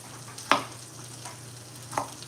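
Onions fry and caramelize in a pan with a steady soft sizzle, broken by two brief louder crackles or stirring scrapes, close and without talk.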